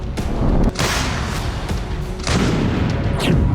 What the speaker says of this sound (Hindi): मिकोलेव में रूसी सेना ने ग्रैड रॉकेट लॉन्चर से तबाही मचाई